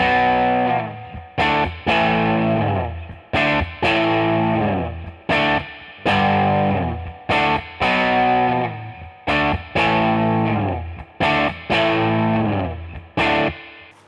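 Heavily distorted electric guitar power chords strummed in a chugging rhythm for the chorus of a pop song, with loud sustained hits separated by short choppy stops, played close and without talking.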